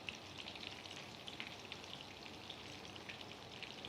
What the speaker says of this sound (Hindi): तो इस तरह से जैसे हम फ्राई कर रहे हैं वैसे पेशेंस के साथ इन्हें फ्राई करना है